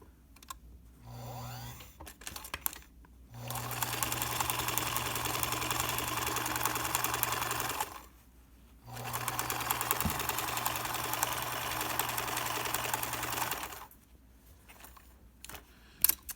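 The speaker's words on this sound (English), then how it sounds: "And then I'm going to sew all the way around to where I started and go just a little bit further." A sewing machine stitches around the edge of a fabric face mask in two long steady runs, loud and close, with short pauses between and no talking.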